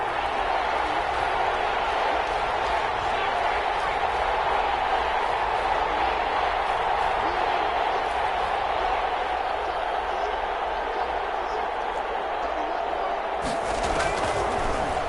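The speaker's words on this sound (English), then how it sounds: "The crowd getting into it as we come up on a big third down." Football stadium crowd cheering ahead of a big third down, a steady, dense roar of many voices, loud and sustained throughout, with a play-by-play commentator talking over it and a brief sharp noise near the end.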